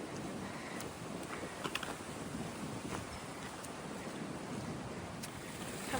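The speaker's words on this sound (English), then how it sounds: "Wind is gusting." Faint, steady wind hisses outdoors on the Appalachian Trail with no one speaking, broken only by a few soft clicks.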